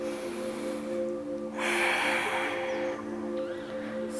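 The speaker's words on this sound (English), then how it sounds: "Breathe through the nose." Breath drawn in and out through the nose during a fire yoga flow, a soft airy rush swelling briefly in the middle over a faint steady background hum, close and alone.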